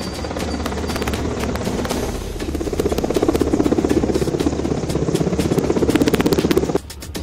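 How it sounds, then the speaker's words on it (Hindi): An Indian Air Force Mi-17 helicopter rumbles overhead during a mock drill in Lucknow, its throbbing rotor beat and engine drone loud and continuous, building slightly before dropping off abruptly near the end. "लखनऊ के आसमान में जब इंडियन एयरफोर्स के MI-17 हेलीकॉप्टर की गड़गड़ाहट सुनाई दी"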